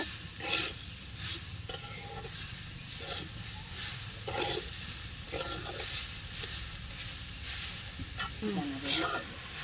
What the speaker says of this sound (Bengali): চিনি মশলা সব ভালোভাবে একটু মিশিয়ে নিতে হবে